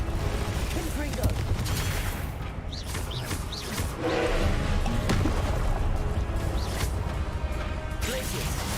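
Confringo fire-blast spells cast repeatedly during Hogwarts Legacy combat, booming explosive bursts over a dense, loud din of battle effects and music, with a player talking throughout.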